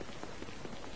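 Steady rain falling in the video game Baldur's Gate Dark Alliance, a dense even hiss of drops on surfaces filling the whole moment with no break.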